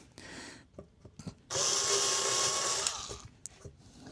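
A hand deburring tool cuts the edges of holes in a guitar amplifier faceplate, with faint scraping and clicks, then a loud steady buzzing grind for about a second and a half, then quieter scrapes.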